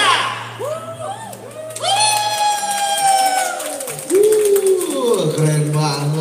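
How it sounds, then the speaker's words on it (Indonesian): Audience at a shopping mall talk show on small-business exports cheers and whoops, with shouting voices and a lively crowd din, plus an amplified voice over the noise. "Tepuk tangan lebih kenceng lagi dong, luar biasa."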